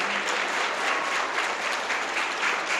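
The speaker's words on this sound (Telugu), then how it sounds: "గణపరుద్దాం చప్పట్లతో." A church congregation at a jubilee celebration applauds to honor a woman, a steady, dense wash of clapping from many hands with no pauses, fairly even in loudness.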